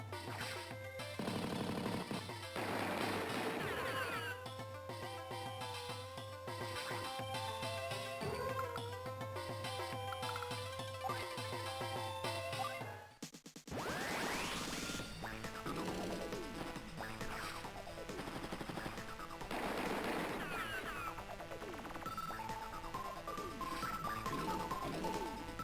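Artillery shelling and gunfire from the Advance Wars 2 video game: loud, repeated crashing blasts and impacts over steady electronic game music, running almost continuously with a brief dip midway.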